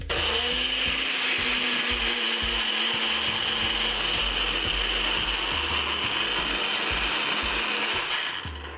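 A blender runs loud and steady for about eight seconds, mixing cacao chips into vegan mint ice cream with a strained, grinding whir before winding down at the end.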